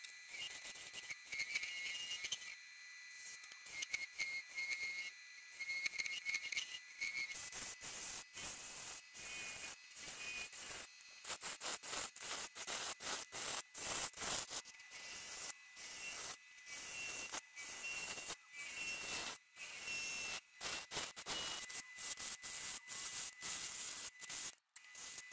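A pink ivory wood bowl is shaped on a lathe with a gouge, giving a long stretch of steady scraping and rubbing broken by rapid, regular cutting ticks. No one talks.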